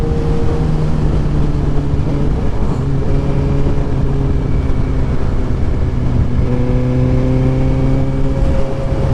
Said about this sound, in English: every time I shut the bike off, you're going to see I'm going to have to push start it